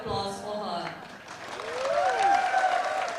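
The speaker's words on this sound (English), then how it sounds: "can we all have a big round of applause for her?" Applause from spectators at a national-level football cup final, a broad, steady wash of clapping that swells toward the end, with a voice talking over it and whistle-like tones running through.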